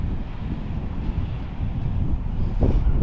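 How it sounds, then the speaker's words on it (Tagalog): Steady, loud wind buffeting the microphone outdoors, a low rumbling roar that swells slightly louder toward the end. "Lakas ng hangin, oh."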